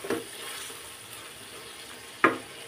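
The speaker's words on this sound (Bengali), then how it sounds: "শাকটা দিয়ে একটু কষিয়ে নিব" Radish greens sautéed with spices in a pan give a faint, steady sizzle, with two brief louder scrapes or clatters from stirring, one at the start and one near the end.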